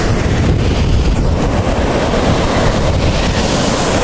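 Sea waves at Kashid beach wash in as a steady, loud roar of surf with heavy wind buffeting the microphone throughout and no talking.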